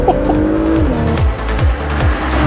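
A 2022 Porsche Macan GTS in Sport Plus launches hard, its engine roaring loud and close as it climbs through several quick upshifts, each gear change dropping the pitch before it rises again, with a hint of tire noise.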